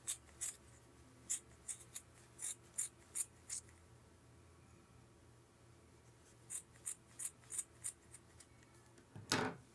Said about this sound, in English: So flipping it over and snipping all these loops as well.